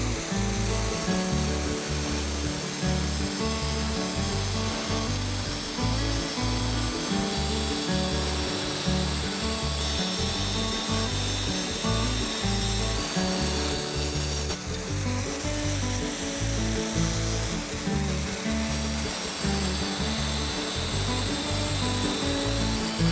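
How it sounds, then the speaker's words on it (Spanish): An angle grinder fitted with a cutting disc grinds burrs off a cast concrete bench, a loud, steady close-up whine with rough gritty scraping that varies slightly in pitch as it bites, continuous for the whole stretch. "utilizando la moladora, que es lo que voy a emplear yo. Así que la tenemos enchufada, un disco para cortar este tipo de material y al ataque."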